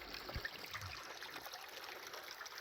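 A river in the bush by a creek, its water flowing and trickling steadily; a soft, continuous wash at moderate distance with a few brief knocks, no talk.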